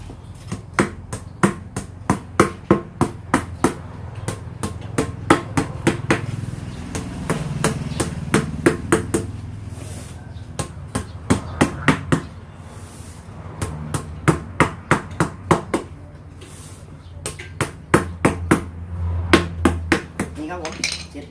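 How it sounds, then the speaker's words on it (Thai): Hammer blows bending over nail heads on a recycled car-tire planter, sharp metallic strikes in quick rapid runs of several hits separated by short pauses, close and clear, with a voice briefly in between. "นี่ที่นี่มันก็ต้องมาพับหัวตะปูครับ"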